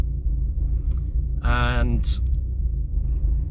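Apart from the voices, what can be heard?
Porsche engine idling cold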